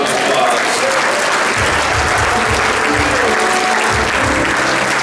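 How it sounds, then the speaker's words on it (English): A congregation in a church service claps in a dense, continuous burst of applause, loud and close, with rhythmic low thumps running underneath. "Let's give him a round of applause."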